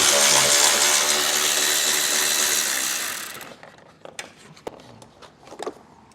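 A power driver or ratchet spins out two T30 fasteners on a Roadmaster Direct-Connect base plate on a 2018 vehicle, a loud continuous whirring for about three seconds, then faint scattered clicks and clinks of handling.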